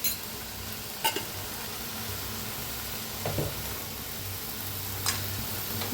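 Dry drumstick curry with crushed peanut powder stirred in a pan, a soft sizzle underneath a few spaced spoon scrapes and taps against the pan.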